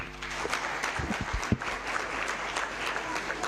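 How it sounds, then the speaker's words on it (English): Scattered, modest applause from a talk-show studio audience, fairly soft and thin, with a few sharper claps standing out and a steady background underneath. "I thought the applause would be more thunderous than that"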